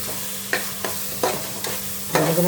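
Spice powder (biryani masala and cinnamon-clove powder) stirred into avarekalu pulao in a pan, a spoon scraping in several distinct strokes over a low steady sizzle, close and clear with no talking.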